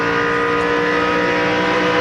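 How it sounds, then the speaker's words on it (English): A race car at the 2002 Pennsylvania 500 holds a loud, sustained high-rpm engine note near 9,000 rpm without shifting, a steady unbroken roar dense with buzzing harmonics and no voices. "That is twisting the engine."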